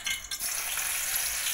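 Garlic and coriander paste sizzling and frying in hot oil in a heated wok, a steady bright hiss with a brief stirring disturbance near the start, close and continuous.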